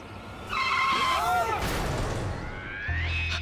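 A car skids with screeching tires and strikes a pedestrian on a road during a TV drama scene, a loud sustained squeal with a heavy impact and engine noise, and voices briefly audible amid the commotion.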